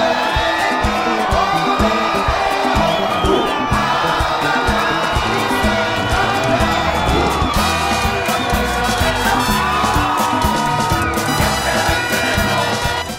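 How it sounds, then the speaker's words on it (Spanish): A large crowd roars and cheers continuously at Club León's 2013 championship parade, loud and dense, with shouts and whoops layered over a constant wall of noise. "Los gritos, las ovaciones, los cánticos, las trompetas, los aplausos se convirtieron en ruidos ensordecedores"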